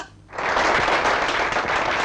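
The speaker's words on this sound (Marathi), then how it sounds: "अरे टाळ्या वाजवा" A crowd bursts into loud, dense hand clapping after a brief quiet start, sustained and even for the rest of the moment, in a Marathi comedy film scene.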